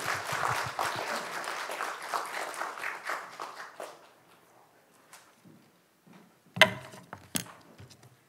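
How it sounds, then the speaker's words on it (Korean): A church congregation applauds to welcome a guest pastor, a dense burst of clapping that thins and fades out, followed by a few scattered knocks and handling sounds. "박수로 환영해 주시기 바랍니다."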